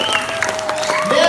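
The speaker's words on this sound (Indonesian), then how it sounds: "Luar biasa tepuk tangan tuh alit-alit gue" Applause and crowd noise ripple through the audience at a Balinese comedy show, brief and lively, with a voice speaking over the clapping.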